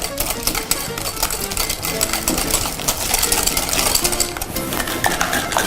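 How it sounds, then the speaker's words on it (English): Cake batter for a Greek apple cake is whisked in a bowl to emulsify it, giving a fast, continuous rattling clatter of whisk against the bowl, close and busy throughout. "I'm just going to whisk it to emulsify it"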